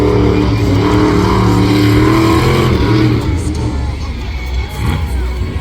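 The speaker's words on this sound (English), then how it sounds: "he can get some good air in the 2 Extreme monster trucks" A 2 Extreme monster truck at New Egypt Speedway roars with a loud, continuous engine rumble that rises and falls with revving, alongside a faint crowd murmur in the background.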